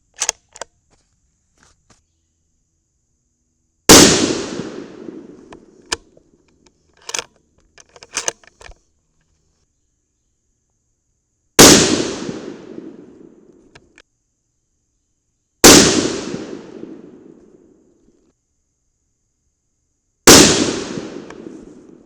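Four loud, sharp Tikka .308 Winchester rifle shots firing 150-grain Sierra Game King loads, each cracking out and ringing down in a long echoing tail, spaced several seconds apart, with quieter handling clicks between.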